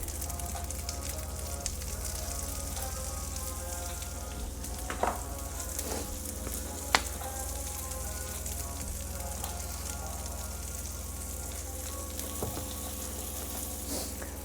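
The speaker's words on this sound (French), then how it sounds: "on grille bien d'un côté, ensuite on grille bien de l'autre" Red kuri squash pieces and crushed garlic cloves frying in a pan with salt and pepper, a steady close sizzle with occasional faint clinks, no voices.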